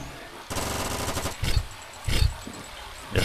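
Submachine gun fire in the Sairento VR video game: a rapid burst of automatic shots lasting about a second, followed by a few heavier single blasts, loud and close.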